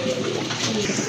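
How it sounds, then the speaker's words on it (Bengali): Pigeons cooing in a bird market, a brief burst of low throaty cooing close by, continuous and moderately loud, with no clear talk. "আরেক জোড়া কবুতর দেখেন, খুবই সুন্দর মডার্না কবুতর"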